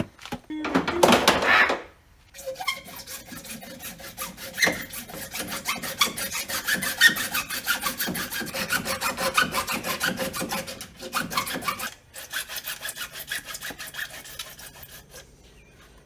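A hand saw cuts through PVC pipe in quick back-and-forth strokes, a close, rhythmic scratchy rasp that continues for many seconds with a couple of short pauses and a knock near the start.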